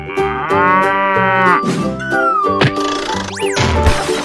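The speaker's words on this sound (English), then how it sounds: "Cow." A cow moos loudly and close in several drawn-out, tonal calls, with a brief sharp whack and a rising squeak near the end, set among cartoon animal sounds.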